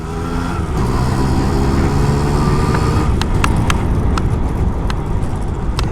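An old vintage motorbike engine runs during a test, a loud, close, steady rumble with a rapid thumping beat and occasional sharp ticks, and no one speaks.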